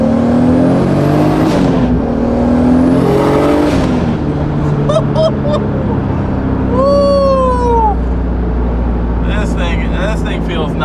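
A Toyota Supra engine revs hard in two rising pulls with a climbing whine and steady low rumble, heard from inside the car, followed by quieter cruising with people talking over it.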